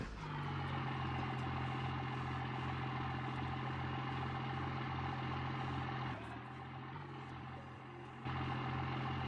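A Cummins-powered truck idles steadily in BeamNG Drive, with a low, even diesel rumble that holds throughout, dips briefly and then returns to its earlier level.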